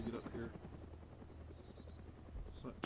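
A helicopter flies in the video game DayZ, a faint, low rotor thrum in the distance, with quiet voice-like sounds mixed in across the short stretch.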